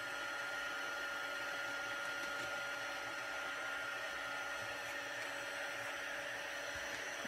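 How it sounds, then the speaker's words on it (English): An embossing heat tool blows hot air in a steady, even whir with a faint high whine, continuous and fairly quiet throughout, with no speech. "my heat tool is nice and hot, so you can see it's shiny when it's heated"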